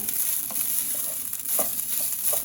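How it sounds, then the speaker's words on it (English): Rice with thyme stirred in a pot, a soft frying sizzle with a few light scraping strokes, quiet and close. "I actually went in with some thyme, and you just want to mix that up in there"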